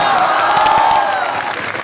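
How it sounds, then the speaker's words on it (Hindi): A crowd of students at a JEE Mains results celebration on a coaching campus in Kota claps and cheers loudly, a thick continuous roar of applause with a few shouts rising above it. "उनके लिए एक बार जोरदार तालियां बजाई जाए भैया"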